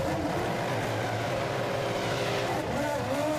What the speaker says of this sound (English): And Kimi Raikkonen dives into the pit lane.